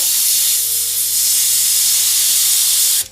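An airbrush loaded with blue paint sprays in one continuous, loud hiss that holds steady for about three seconds and then cuts off abruptly.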